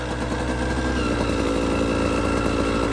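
Beta dirt bike engine running continuously on a muddy woods trail, a steady loud buzzing drone with dense harmonic texture and no pauses, close to the microphone throughout.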